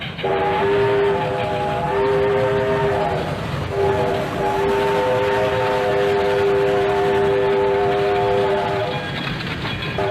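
A steam train whistle sounds a long, steady chord, pauses briefly, then blows again loud and close over the rumble of a moving train.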